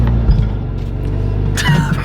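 Lotus Emira creeping slowly in first gear along a driveway, its engine a steady low rumble throughout, with a brighter burst of mechanical noise near the end.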